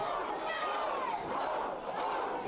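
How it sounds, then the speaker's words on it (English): Wrestling fans at a Southern Stampede heavyweight championship event bark like dogs in a loud, sustained crowd chant, rising and falling in a rowdy wave of voices. "Dogs in the crowd barking yet again."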